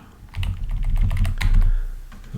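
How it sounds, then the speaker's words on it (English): Rapid keystrokes on a computer keyboard as arrow keys are tapped back and forth, a steady run of close, distinct clicks filling about two seconds with no talking. "I'm using my arrow keys to move back and forth."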